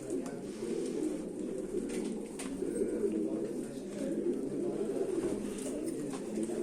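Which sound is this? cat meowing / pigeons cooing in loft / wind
pigeons cooing in loft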